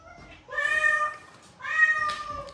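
Male cats give two drawn-out, plaintive meows, each lasting about a second with a short pause between, fairly close and clear over quiet background noise.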